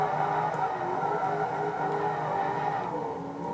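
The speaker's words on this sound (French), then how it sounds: "Je suis au taquet niveau accélérateur pendant le virage." Car engine in the Forza Motorsport 2 racing game held at full throttle through a drifting corner, a steady sustained roar that continues without a break and dips slightly near the end.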